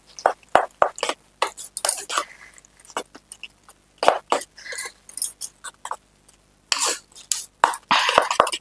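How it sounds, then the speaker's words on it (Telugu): Eggs beaten with brinjal for a brinjal omelette, a utensil clinking and scraping in quick irregular bursts against a bowl, close and fairly loud with short pauses between strokes. "ఇది బాగా బీట్ చేసుకోవాలి ఇట్లా."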